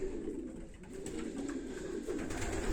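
Pigeons coo softly and steadily in a loft, a low, rolling murmur of several birds heard from a modest distance, with no voices.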